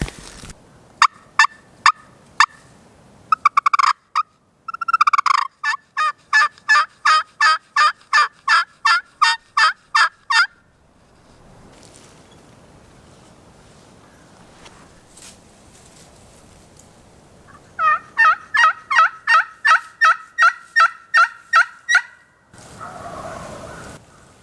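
Turkeys on a Nebraska turkey hunt call and gobble in fast rhythmic bursts, loud and fairly close, with a few sharp single notes first and long rapid runs of calls later, and no talking.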